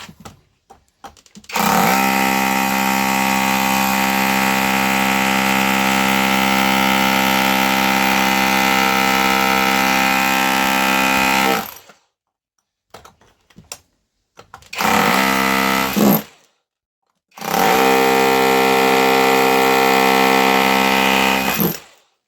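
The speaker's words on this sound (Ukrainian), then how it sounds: "Ось так ось він працює." A Grasser GRH 226 cordless rotary hammer drills in loud, close, sustained bursts with a steady motor whine: one long run of about ten seconds, then a brief one and a final run, separated by silences.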